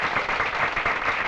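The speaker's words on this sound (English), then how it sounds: "So he gets a nice hand from the crowd here in Akron, Ohio." A crowd at a 1960s professional bowling match in Akron, Ohio applauds a bowler, a short, steady wash of clapping from many hands.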